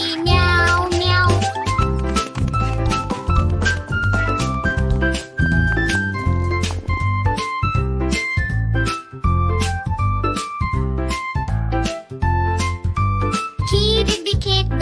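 A bouncy Hindi children's nursery rhyme with a sung voice imitating a cat's meows over and over, backed by bright, plucky instruments and a steady beat.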